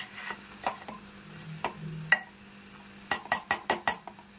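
Eggs and okra being stirred in a pan bring a series of light metallic clinks and scrapes, scattered at first and then a quick run of five or six sharp taps near the end.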